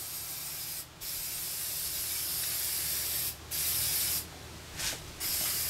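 A spray can paints engine parts in several hissing bursts, close and steady, broken by short pauses between passes.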